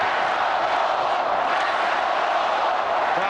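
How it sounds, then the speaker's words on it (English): A dense, loud arena crowd at the 1993 NBA Finals between the Chicago Bulls and Phoenix Suns roars steadily throughout, with chanting for the Bulls blended into a continuous wash of massed voices. "Crowd chanting, "Let's go Bulls.""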